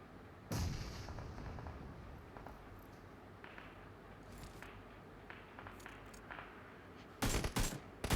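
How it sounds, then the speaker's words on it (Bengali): Gunfire keeps rattling in a Battlegrounds Mobile India match, with bursts at mid distance running on and on over a steady rumble. Louder close shots crack at the start and again near the end. "এখানে ট্র্যাপ ফায়ার কনস্ট্যান্ট চলছে এখানে"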